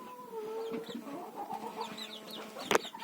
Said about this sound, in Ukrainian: А це наші курчатка.